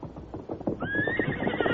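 A horse gives a loud, close whinny that rises and wavers for about a second, following a brief patch of clopping and shuffling movement.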